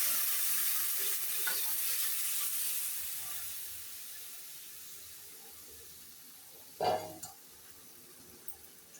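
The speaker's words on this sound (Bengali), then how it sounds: "এখন ভালোভাবে নাড়াচাড়া করে মিশিয়ে নেব।" Mung dal with a fish head is stirred into hot tempering in a pan, a soft hissing sizzle that fades over time, broken by one clear scrape of the spoon near the end; no one speaks.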